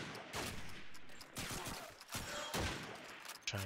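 Gunfire in Call of Duty 2 on the Dawnville map, with repeated bursts of rifle and machine-gun shots crackling in rapid clusters across the whole stretch, loud and close, alone without talk.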